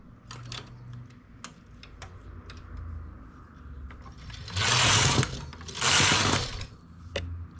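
Knitting machine working stitches: scattered light clicks and ticks, then two long, loud rushing sweeps of the carriage back and forth, close by.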